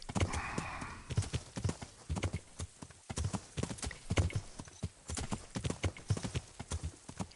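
Horse hooves clip-clopping in a steady canter across an open field in the medieval video game Kingdom Come: Deliverance, a rhythmic run of hoofbeats with an occasional whinny, close and continuous throughout.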